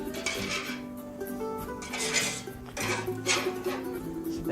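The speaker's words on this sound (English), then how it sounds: "I'm gonna scoop up the rest of these onions in here, so we can make our sandwich." Metal utensil scraping and clinking against a pan while scooping up cooked onions, repeated rough scrapes in short bursts, close and clear against faint kitchen hum.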